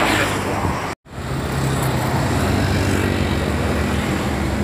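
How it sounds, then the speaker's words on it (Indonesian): A Sahabat tour bus passes along a road in a steady, loud roar of engine and traffic noise, broken by a brief dropout near the start. "Bis pariwisata Sahabat melintas di jalan."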